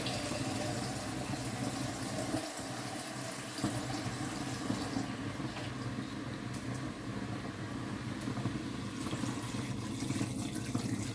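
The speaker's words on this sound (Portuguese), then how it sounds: "Vou lá e já vou preparando a água para me colocar na panela" Tap water runs steadily into a cooking pot in a home kitchen, a continuous rushing splash that holds through the whole stretch, with a brief dip in the low end partway through.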